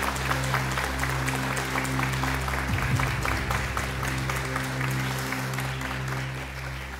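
An audience applauds a contestant at a Quran recitation competition, with steady clapping over a low hum of hall noise lasting the whole stretch.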